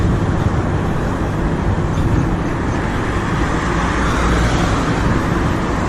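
Continuous loud road traffic on a morning walk, with vehicles rolling past close by in a dense, unbroken roar and no clear pauses.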